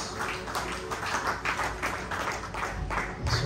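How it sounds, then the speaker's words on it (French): Audience applause greeting a man as he comes forward at an evening event, a steady wash of many hands clapping at moderate loudness throughout. "encourage him with our applause"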